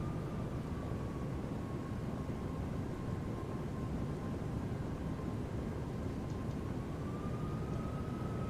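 Airliner engines in a flight simulator motion rig, flying from DCA to Indianapolis, give a steady broadband roar with a faint whining tone that slowly shifts in pitch, continuous and even throughout with no talking.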